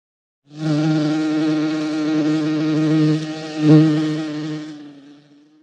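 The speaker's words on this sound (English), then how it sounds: "Buzz." Insect-like buzzing sound effect, a continuous droning hum lasting about five seconds, close and clear, fading out at the end with no voices.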